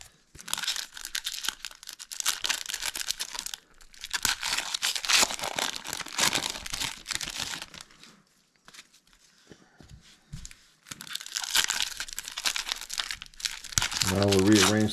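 Packs of 1991 Frank Frazetta trading cards are torn open and handled up close, with bursts of loud foil crinkling and tearing separated by brief quiet gaps while a person talks.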